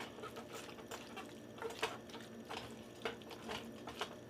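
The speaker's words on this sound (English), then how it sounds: "Stir this in a little bit." Tomatoes are stirred into browned ground meat in a pot on a hot stove, giving soft, wet scraping and squelching strokes in an uneven rhythm over a faint sizzle, close and fairly quiet.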